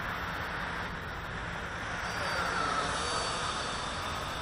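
An F-22 Raptor RC model jet with a 70 mm electric ducted fan on a 6S battery cruises at half throttle, flying slightly nose-up from its weight. It gives a steady, continuous whooshing whine under light wind noise.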